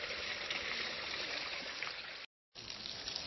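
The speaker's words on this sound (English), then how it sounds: "where you can hear so many trickling little waterfalls" Trickling little waterfalls at Weeping Rock in Zion National Park give a steady, broad rush of flowing and dripping water that runs throughout, with one brief full dropout near the end.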